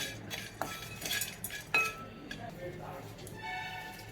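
Hard whole spices clink and rattle as they are dropped into a metal pan, with scattered sharp ticks and a louder clatter near the middle, while a voice talks faintly nearby.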